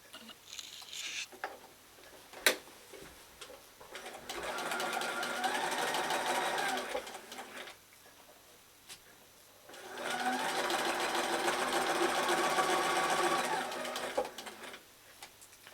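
A sewing machine stitching string-pieced patchwork blocks runs in two rapid, steady bursts of several seconds each, separated by a quiet pause, close and clear with no talking.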